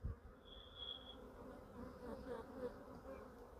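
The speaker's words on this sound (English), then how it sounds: "the bees are licking up some damage that I've done" Honey bees buzz steadily around an opened apiary hive where they are cleaning up spilled honey and damaged wax, a soft, close, continuous hum with one individual bee briefly passing near.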